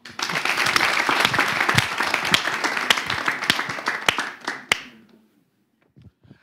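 A live storytelling semifinal audience applauds with brisk, distinct hand claps standing out from the crowd, the clapping thinning into a few scattered claps before stopping near silence.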